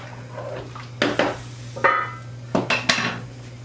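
A utensil knocks and scrapes against a pot while pasta shells are stirred, several distinct clanks in irregular bursts over a low steady hum.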